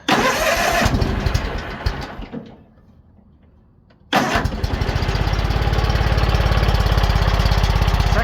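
Kohler KT17 Series 2 twin-cylinder engine cranking with rough bursts, a short near-silent pause, then firing and settling into a loud, steady, close running rumble with regular pulsing.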